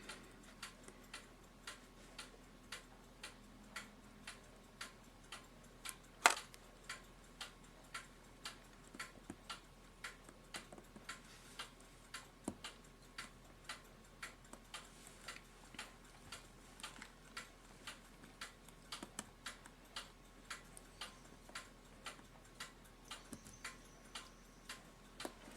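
An Art Deco Mauthe alarm clock ticks steadily and quietly in a still room, an even run of soft, regular clicks with one sharper knock partway through.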